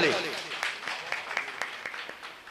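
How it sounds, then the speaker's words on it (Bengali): An audience at a jatra theatre troupe's opening event applauds a child actor, a short, fairly soft patter of clapping with scattered louder claps over a murmur of background voices. "বাচ্চাটার জন্য আশীর্বাদ স্বরূপ চাইবে একটা জোরদার হাততালি"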